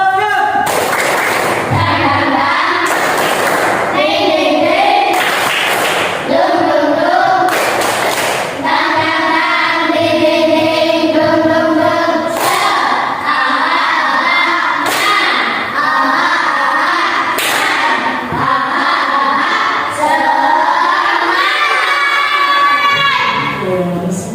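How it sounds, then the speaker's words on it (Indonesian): Schoolchildren in a classroom perform a rhythmic clapping chant, loud sharp claps in patterned bursts alternating with the children's chanted voices, repeated over and over at close range. "Oke, tepuk semangat."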